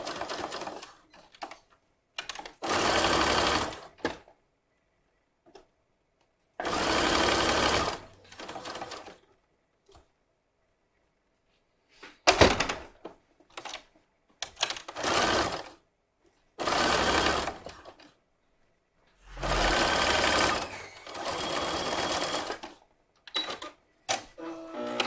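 Sewing machine stitching leggings, with about seven separate bursts of fast, steady stitching a few seconds long, divided by quiet pauses and small handling clicks. The machine sounds close and runs alone with no talk.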